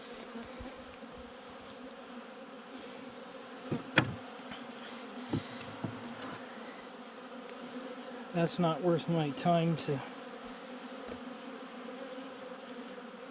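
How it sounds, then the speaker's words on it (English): Honeybees hum steadily while cleaning up wet honey supers stacked on pallets. The soft, continuous buzz has a few sharper thuds, and a person briefly speaks over it. "I'm just having the bees clean it up."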